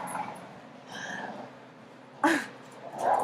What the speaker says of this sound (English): those are my dogs making demon noises in the background, fighting over a ball